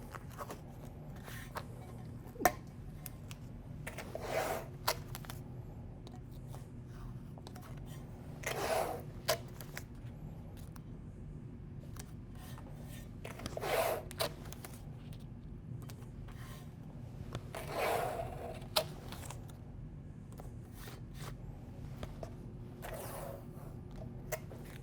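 Masking tape is applied over a halftone photomask on granite, with soft rubbing, smoothing and occasional tearing or crinkling sounds recurring every few seconds over a quiet background.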